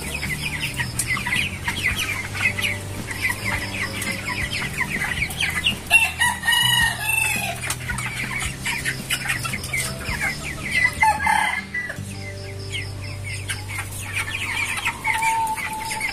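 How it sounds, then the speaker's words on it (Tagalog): Broiler chicks around 29 days old in a farm batch of 40 cluck and chatter continuously nearby, with busy overlapping calls and a few louder squawks. "Ang ating remaining na 40 heads ng broiler chicks batch 9"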